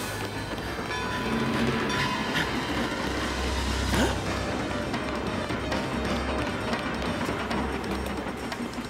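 A train runs at a railway station platform, a loud continuous rumble with rattling wagons and faint clickety-clack, a brief squeal rising near the middle, and no voices.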